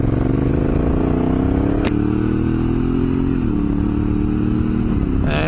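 A Honda Africa Twin DCT motorcycle accelerates close up, its engine note climbing steadily and then dropping briefly at each automatic gear change, loud and continuous without any talk.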